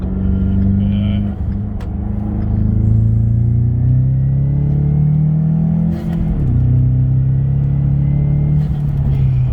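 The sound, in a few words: 2016 Ford Mustang EcoBoost accelerating up a highway on-ramp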